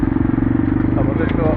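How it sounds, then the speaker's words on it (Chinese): Motorcycles being unloaded from a ferry at a lakeside dock in Sumatra, Indonesia: a close, loud idling engine throbs steadily, and a few faint clanks sit under it. "他们就这样把摩托车卸下来。"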